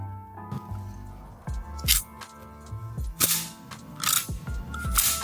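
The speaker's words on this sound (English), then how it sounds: "We remove the magazine and pull the slide so that we can release it from the gun." Airsoft pistol being handled as its magazine is removed and the slide pulled back: a series of crisp plastic-and-metal clicks and snaps, several spaced across the clip, close and fairly loud, with no talking.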